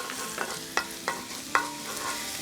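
Minced garlic stir-fried in a pan for a seaweed-stem stir-fry: a steady close sizzle broken by four or five sharp spatula scrapes and clacks, with no talking.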